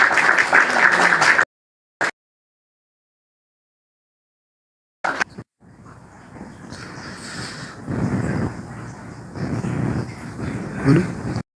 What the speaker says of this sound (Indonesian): Berikan tepuk tangan yang gemuruh untuk Bang Juma.